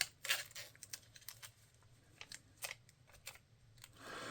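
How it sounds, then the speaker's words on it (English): Tape is pulled off the roll and torn during a resin prop repair, heard as quiet, close, short ripping bursts spaced irregularly, with a longer rasping pull at the end. "Use a little bit of tape. It's going to make some noise."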